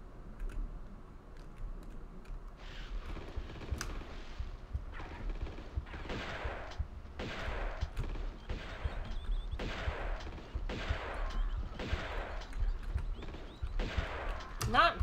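Shotgun blasts in Tomb Raider II ring out as a rapid series of roughly a dozen evenly spaced booming shots, fairly loud, with faint talk underneath.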